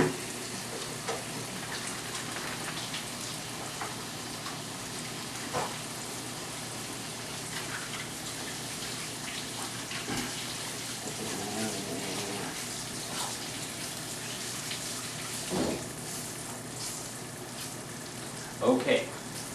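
A tilapia fillet fries in a pan with a steady, even sizzle that runs without a break. It sits at moderate loudness, and a few faint clinks come near the end.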